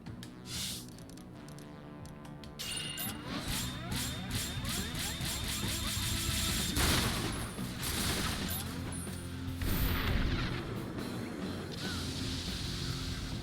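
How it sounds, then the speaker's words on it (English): Missile barrage attack in Resonance of Fate, a rapid string of whooshing launches and mechanical clatters building into a dense, sustained volley with heavier bursts late on, fairly faint overall. "That is a whole bunch of missiles."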